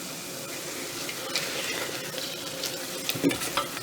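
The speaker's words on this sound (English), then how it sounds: "saute the onions in butter with a pinch of kosher salt" Onions sautéing in butter with a pinch of kosher salt, a soft steady sizzle with occasional stirring scrapes.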